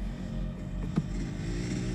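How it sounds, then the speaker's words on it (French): Vehicle engines approaching outdoors give a faint, distant low rumble that holds steady for a moment, with a slight swell near the middle. "J'entends aussi des moteurs."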